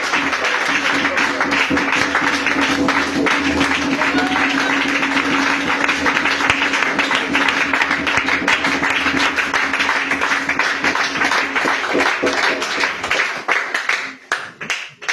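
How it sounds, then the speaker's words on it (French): Church congregation at a prayer and teaching gathering in Yopougon applauding to acclaim the Lord Jesus, loud sustained clapping from many hands that carries on steadily before tapering off at the very end. "Acclame le Seigneur Jésus."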